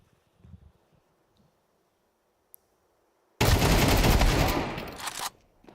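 Sustained automatic rifle fire bursts in Counter-Strike, loud and dense for about two seconds after near silence, with a single sharp click earlier and a brief faint tail.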